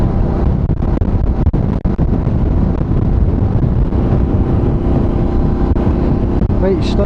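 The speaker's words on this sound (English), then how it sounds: "It's a bit windy on the bridge right enough." Strong wind buffets the microphone on a bridge in Inverness, a continuous loud roaring rumble with gusty thumps and passing traffic noise, no voice present.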